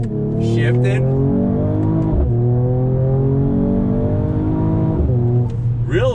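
Engine of a 2020 Mercedes-AMG E 53 heard from inside the cabin, a loud steady drone that swells with each paddle-shifted downshift through a right-hand turn, with brief blips and pops between gears.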